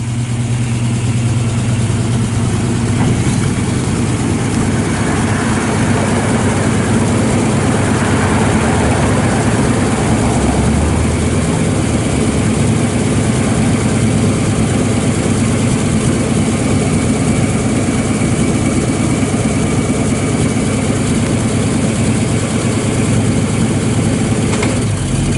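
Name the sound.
Chevy II Nova engine idling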